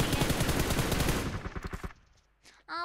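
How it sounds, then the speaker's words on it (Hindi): Rapid automatic gunfire in the video game PUBG Mobile, a loud run of closely spaced shots that thins into a few scattered bursts and fades, with a brief voice-like sound at the end. "ये फायरिंग कैसे रियल की तरह आ रही थी।"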